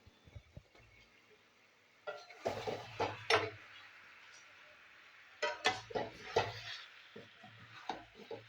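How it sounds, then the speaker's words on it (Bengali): Chicken is stir-fried in masala in a pot, with bursts of spoon scraping and stirring against the pot in two clusters over a soft background sizzle. "এবার মশলার মধ্যে চিকেনটা কিছুক্ষণ কষাবো আমি"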